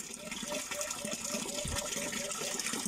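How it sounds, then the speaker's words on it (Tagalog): Water gushes steadily from a newly installed water pump, a continuous broadband rush that stays loud throughout, with a voice talking over it. "ito yung tubig guys na mula doon sa baba"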